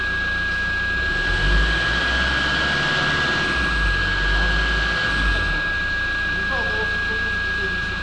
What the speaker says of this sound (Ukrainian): О, так двигун зовсім по-іншому працює